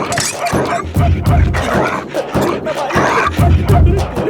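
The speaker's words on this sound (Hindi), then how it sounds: "अरे मुझे छोड़ा इस कुत्ते से, जल्दी आ।" A dog barks repeatedly and aggressively at people in a dubbed Hindi film scene, loud and rhythmic bursts over a busy background.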